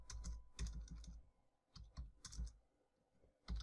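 Clicky keystrokes on a computer keyboard while PHP code is written, coming in quick bursts of several taps separated by short pauses, close and fairly quiet with no voices.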